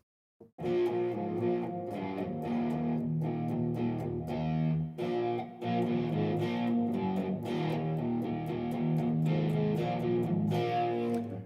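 A guitar played through a loud amp with reverb sounds distorted and wrong, as chords and notes ring continuously and heavily processed, with no talking.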